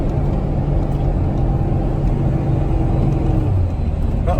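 A 12-valve Cummins diesel truck towing a load while cruising in third gear, heard from inside the cab as a loud, steady low drone and rumble that stays even throughout.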